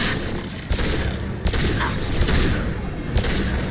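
Pistol fire rattles through a Mass Effect 2 firefight on Insanity difficulty, loud and close, with rapid shots blurring into a dense volley and sharper cracks standing out over the din.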